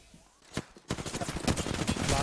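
Rapid bursts of video game gunfire in a squad-based shooter, loud and close, firing in quick repeated volleys that grow denser and nearly continuous after a brief lull, with faint talk underneath.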